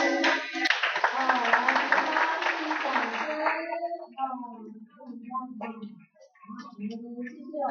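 Volunteers and children at a group outing clap together in a brisk, dense burst of applause for about four seconds, after which a voice talks on alone.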